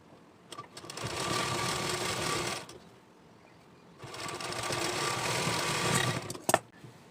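A sewing machine runs in two long, steady bursts with a short pause between, stitching the side seam of a child's ghoti-sleeve blouse; a small click sounds near the end.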